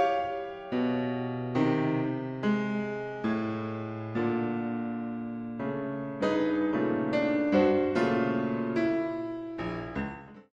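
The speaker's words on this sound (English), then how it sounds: "a compositional style in which each of the 12 notes in the Western chromatic scale must be used up before repeating any notes" A serialist twelve-tone piece unfolds as a sequence of struck piano-like tones, each note sounding and sustaining before the next, with shifting pitches and no voices.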